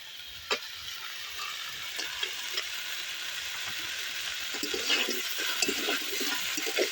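Fried eggplant, bitter gourd and bori are sautéed with spices in a pan for shukto: a continuous hissing sizzle with occasional soft knocks and scrapes of stirring, fairly close and steady.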